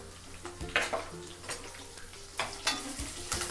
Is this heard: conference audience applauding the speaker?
no